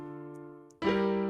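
A sustained piano chord rings and fades, then a new chord is struck and rings out clearly, part of a 1-4-2-1 progression with a diminished chord, alone with no voices.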